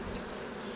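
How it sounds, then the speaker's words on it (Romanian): Honeybees buzz at an open hive in spring, a brief dense hum of many insects close by, with no voice over it. "albină destulă, stă bine albina"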